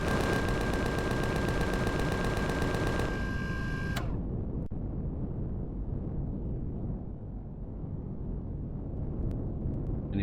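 Rapid automatic gunfire in the sci-fi survival game Empyrion Galactic Survival, Alpha 11.5, rattles loudly for about four seconds, then cuts off and leaves a low rumbling background.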